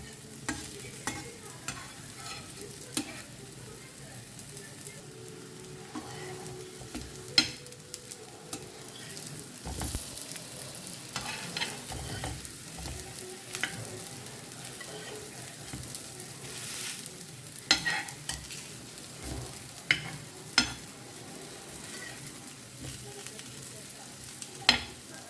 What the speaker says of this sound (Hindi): ब्राउन में बढ़िया सा क्रिस्पी होने तक हमें इसको फ्राई करना है